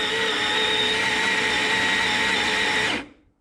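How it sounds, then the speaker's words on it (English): A Baratza Sette 270 coffee grinder grinds espresso beans in a steady, loud, high whirring burst of about three seconds. It then cuts off abruptly into silence. "Really like this grinder, nice fluffy grinds there."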